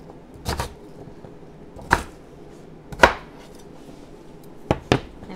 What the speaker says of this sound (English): Chop it into bite-sized pieces.